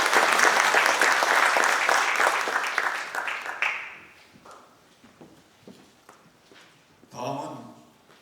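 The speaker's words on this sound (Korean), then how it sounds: "우리 하나님께 영광을 박수드립니다." Congregation clapping at a church graduation worship service, a loud dense burst that thins out after about four seconds into a few scattered claps and low murmurs, then a brief swell of voices near the end.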